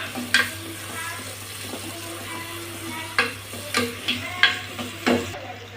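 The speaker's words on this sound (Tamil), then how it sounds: "வெங்காயத்தை நல்லா வதக்கலாம்" Onions sautéing in a pan for a mutton gravy, a soft steady sizzle with a spoon scraping and tapping against the pan several times, close and fairly quiet, without speech.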